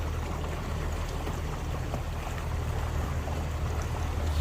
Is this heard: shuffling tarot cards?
no